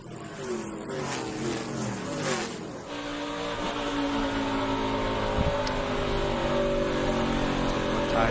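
NASCAR trucks racing at the Nashville racetrack roar past in a sustained, loud engine drone, with pitch sweeps as trucks come off and back onto the throttle; commentators talk over it at the start.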